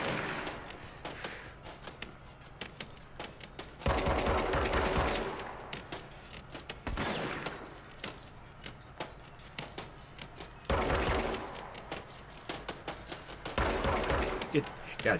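Gunfire in the video game Control, rapid bursts of automatic shots in several loud volleys with quieter gaps between them, and a voice speaking at times.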